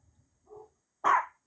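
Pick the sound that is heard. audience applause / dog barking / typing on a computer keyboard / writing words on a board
dog barking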